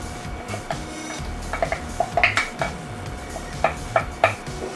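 Grated cheese is stirred into chicken pie filling in a pot, giving repeated clinks and scrapes of the utensil against the pot at an uneven rhythm over a low background hum, with no talking.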